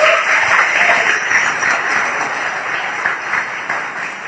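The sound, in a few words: audience applause for the guest speaker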